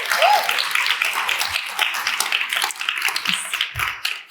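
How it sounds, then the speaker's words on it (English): An audience at an entertainment industry talk claps and applauds, a dense patter of hand claps that is moderately loud, slowly thins out and ends within a few seconds. "So let's give a big applause for all of that."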